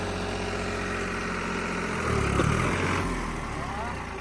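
A New Holland 3630 tractor engine runs close by at a steady idle and then briefly revs up before settling again, while someone talks over it.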